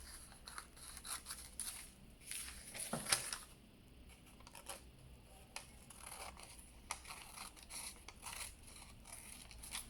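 Scissors cut through thin paper in a quiet series of crisp snips and soft rustles, irregularly spaced with one sharper cut near the middle, with no talking.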